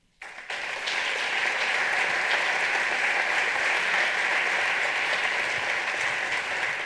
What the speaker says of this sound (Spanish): Un, un fort aplaudiment.